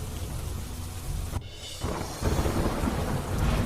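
Monsoon thunder rumbles over the Panchmahal district of Gujarat, followed by a brief lull and then heavy rain hissing steadily on surfaces, close and continuous.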